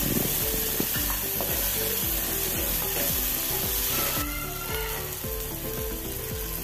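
Curry leaves and chopped green chillies fry in hot oil with salt, giving a loud, steady sizzle close up, broken by regular scraping strokes of a spoon stirring through the pan.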